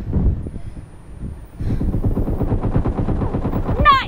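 Rapid automatic gunfire from PUBG Mobile, played on an iPhone 11, rattles in a steady burst of close, evenly spaced shots after a quieter stretch with a few scattered reports. A rising whistle-like sweep comes near the end.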